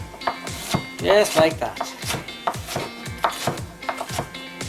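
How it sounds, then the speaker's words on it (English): A kitchen knife chops the other half of an onion on a board for a hot turkey burger sandwich, making a steady run of quick, sharp strikes close by with a little spoken talk over them. "that other half of onion, you can just chop it up"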